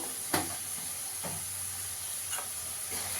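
Spice paste with Kashmiri chilli powder and black salt sizzles steadily in a pan while being sautéed for aloo dum, a constant close hiss broken by a few soft stirring scrapes.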